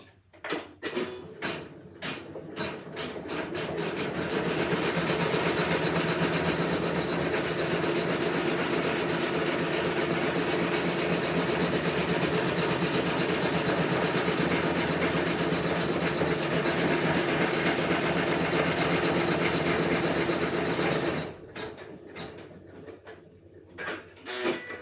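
A ScanNCut-style embroidery machine stitches a row on an in-the-hoop appliqué wall hanging, a steady close mechanical whirr with fast rhythmic needle clatter running unbroken for most of the clip before stopping.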